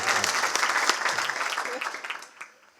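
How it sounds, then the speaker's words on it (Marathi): A crowd at a Marathi devotional gavlan singing performance claps loudly and continuously for a few seconds for the singer, then the applause thins out and fades. "एकदा जोरदार टाळी वाजवा"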